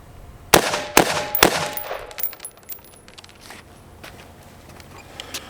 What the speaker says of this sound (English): hit it with a bunch of rounds and see when it finally fails